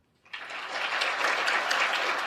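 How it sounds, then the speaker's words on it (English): Crowd applause at a Jehovah's Witnesses gathering, honoring the governing body: a dense, steady clapping from a large audience that starts abruptly after a brief silence and holds at full strength throughout. "the crowd applauds the governing body for sending it"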